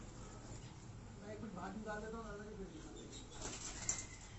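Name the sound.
breeder pigeons flapping wings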